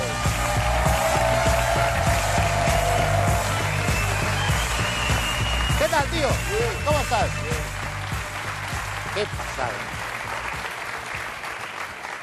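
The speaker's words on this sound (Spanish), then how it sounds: "aplauso para Kylo" A studio audience at a Galician television talk show applauds steadily and fairly loudly for a guest, the clapping carrying on as people speak over it and gradually thinning toward the end.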